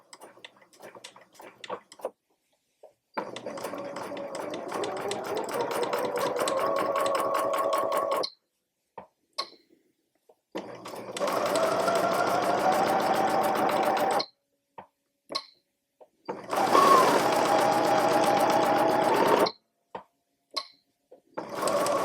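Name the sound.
sewing machine stitching slowly around rounded edges of book cover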